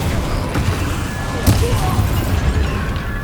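A fire spell bursts in Hogwarts Legacy, a single muffled boom mid-clip over a steady rumbling game backdrop with some voice underneath.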